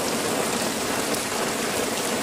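Very large hail pours down in Stavropol, a loud, dense, unbroken roar of countless impacts with no voices.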